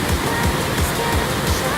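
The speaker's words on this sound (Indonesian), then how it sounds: "sekarang kita udah sampai di curug yang berikutnya atau di air terjun yang berikutnya." A waterfall (curug) on an Indonesian hillside, reached by bicycle, roars as a dense, constant broadband rush, loud and close, with a faint pulsing low undertone throughout.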